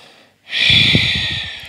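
A single long, deep inhale through the nose during a vinyasa yoga session, a close, steady breathy rush that begins after a short pause and holds for over a second.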